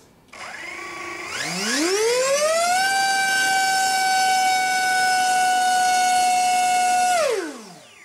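AeroScout bull nose six by four and a half three-blade propeller on a test stand spins up with a rising whine, holds a loud steady tonal howl for several seconds, then winds down.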